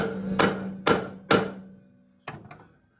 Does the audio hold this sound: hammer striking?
yes